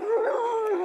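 A single dog howl, loud and close, holding a wavering, drawn-out tone that slides up and down for about a second with no other sound around it.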